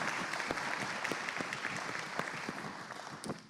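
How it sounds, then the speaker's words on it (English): A chamber of commerce panel audience at an outdoor recreation event claps for panelist Bryan Sanders, a dense, steady round of applause with sharp individual claps that tapers off toward the end. "Bryan Sanders, a big round of applause"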